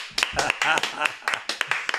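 Brief bursts of clapping from a small podcast audience welcoming a guest, uneven and close, mixed with laughter and talking throughout.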